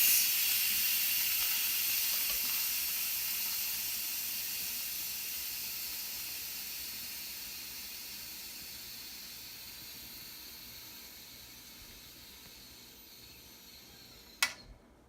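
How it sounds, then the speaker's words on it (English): Steam hisses steadily from a pot of oil-free dumplings as it is released, a long continuous rush that slowly fades, ending with a sharp click. "So now at this point we'll just release the steam"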